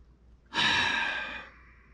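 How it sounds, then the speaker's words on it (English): An old man gives a single heavy, breathy exhalation like a weary sigh, close and clear, fading out after about a second, with no talk. "Well, I got that old man breathing."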